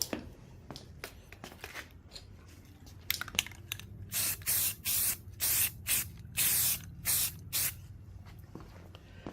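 An aerosol spray bomb paint can hisses in repeated bursts of about half a second each, close and loud, as it coats the rusty underside of a classic car or truck, with quieter scuffs and rattles between the sprays.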